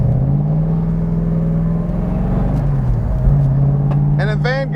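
A 1970 Plymouth Hemi Cuda clone drives and turns, its engine a steady, close, low rumbling hum that dips briefly mid-turn before settling back. Someone talks over the engine throughout.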